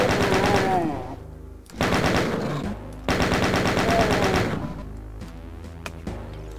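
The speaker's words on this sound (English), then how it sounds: "Sometimes I like to wander through narrow corridors whilst wielding a chain gun." Rapid automatic chain gun fire from Doom in a narrow corridor: two long, loud bursts of rattling shots separated by short gaps, then a quieter tail with scattered impacts.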